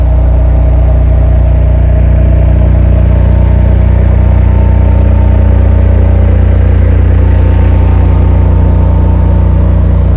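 A 2015 Cummins home standby generator runs steadily under load, its engine humming loud and close with an even, unchanging drone and strong low tones, nothing else heard over it.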